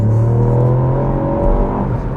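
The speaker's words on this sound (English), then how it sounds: "That 3-cylinder engine has a distinctive thrum." A Ford Puma ST's three-cylinder engine pulls steadily with a low, throbbing thrum, its pitch gradually rising as it accelerates, heard from inside the vehicle.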